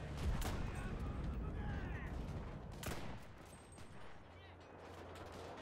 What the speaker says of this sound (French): Bon, je sais pas où je tire, mais je tire pas sur lui.